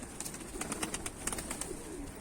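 Mardin pigeons outdoors, a run of short, sharp bird calls repeating in a quick irregular series over steady background noise, with a few low coos mixed in.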